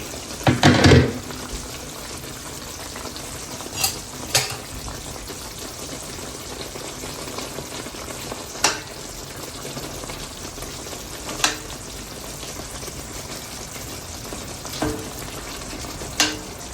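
Stuffed eggplant (bharli vangi) cooking in a pan, a low, steady simmering hiss with occasional soft pops and bubbling ticks, after a brief louder clatter at the start.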